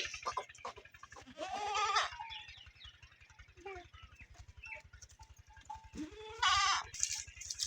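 A sick goat with swellings bleats in repeated wavering calls, with a steady low mechanical hum underneath and a person's voice faintly in the background.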